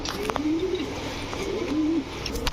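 A Tiger Budapest pigeon pair, a hen and a cock, gives two short rising-and-falling coos about a second apart. The calls are close and clear over a steady low background noise.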